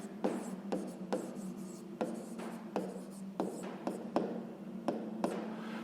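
Pen or pencil writing by hand on paper, a series of quick rhythmic scratching strokes with brief pauses between them, close and quiet, no talk.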